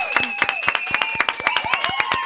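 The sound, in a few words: audience applause for podcast guest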